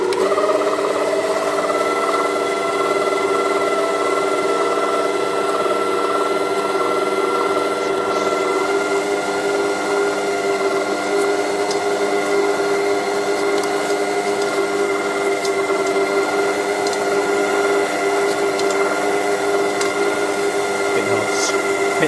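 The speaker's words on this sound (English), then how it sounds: "so let's start the mixer again" A stand mixer runs steadily while mixing cookie dough, a loud continuous motor whir with a high-pitched hum that holds unbroken the whole time, with faint scraping in the background.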